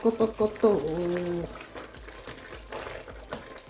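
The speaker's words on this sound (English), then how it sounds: "It's boiling." A pot of bitterleaf soup with cocoyam bubbles and sizzles at a steady simmer on high heat close by, with a brief voice at the start over the boiling.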